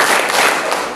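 A group of schoolchildren clapping in unison during an anti-bullying session at an elementary school, a dense burst of applause lasting about a second at close range.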